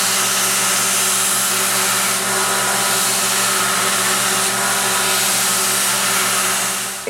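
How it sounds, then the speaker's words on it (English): A steel roughing gouge for woodturning being ground on a belt grinder's flat platen, producing a loud, continuous motor whine with an even grinding roar that holds steady throughout. "Next, I'll grind the blade to shape. I'll use the flat platen to true up the exterior surfaces"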